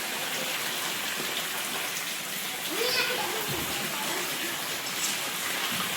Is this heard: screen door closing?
no